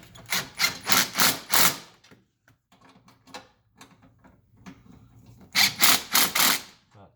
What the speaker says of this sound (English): we'll go ahead and lock these bolts down